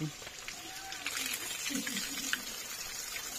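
Spring water by a temple trickles and splashes as it is collected. The steady watery wash is fairly quiet and sits under murmuring voices.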